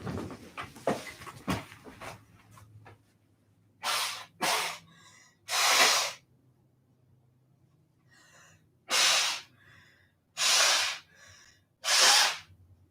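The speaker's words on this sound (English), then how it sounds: "You heard me blow my nose." Someone blows their nose into a tissue in a quiet room, several loud, separate honking blows with short sniffs and breaths between them.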